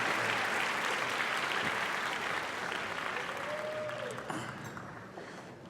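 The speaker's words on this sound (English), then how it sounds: "Could you give them a round of applause for coming up Thursday night?" A high school band spring concert audience applauds in a hall, a dense, even patter of many hands at moderate distance that slowly thins toward the end, with a faint voice briefly heard.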